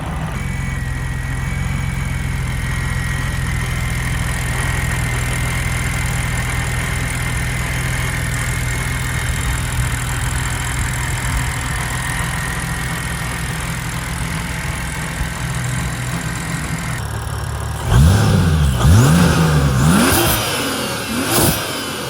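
A supercharged BMW N52 inline-six with a 22RPD supercharger kit, exhaust valve closed, idling steadily for a long stretch before being revved in a few loud sharp bursts near the end.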